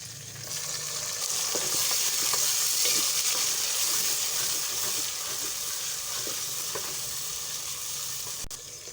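Chopped green chillies and tomatoes sizzle in a pan with browned garlic and onion, a loud, steady frying hiss with faint stirring clicks running throughout and no talk.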